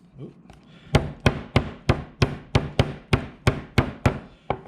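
A meat tenderizer hammer pounds deer backstrap in a steady series of about twelve sharp, close thuds at a regular rhythm, each blow ringing briefly with a faint knock.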